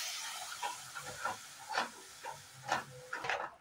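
Milk pours into a pan of white sauce for pasta, giving a soft hissing sizzle with several irregular bubbling, steamy bursts, fairly faint and close.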